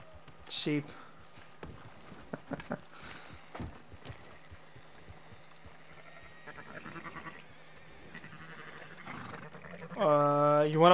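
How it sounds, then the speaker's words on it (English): Sheep bleat in Red Dead Redemption 2 Online, a short call early on and a louder, wavering bleat at the end, among faint hoof clops and game sounds. "Sheep."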